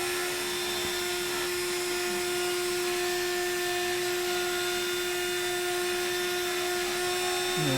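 A CNC router spindle whines steadily and close at around 11,000 to 12,000 RPM while it is being sped up, a loud, sustained high-pitched motor tone with faint hiss and no speech over it.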